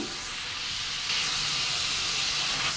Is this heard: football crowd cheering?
no